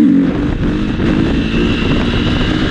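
A motorcycle engine runs close and loud as a steady, droning roar with slight shifts in pitch and no voices.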